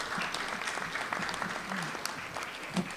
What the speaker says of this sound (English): I think that deserves a round of applause for yourself